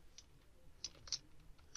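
Quiet typing of a command on a computer keyboard, a few scattered light key clicks with uneven spacing, close and faint with no talking.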